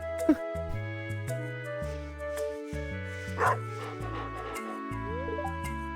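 A dog in the Stardew Valley farming game gives a couple of short, bright yips and a happy bark as it is petted, set over steady game music.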